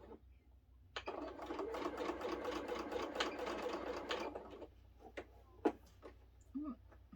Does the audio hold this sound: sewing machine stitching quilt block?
yes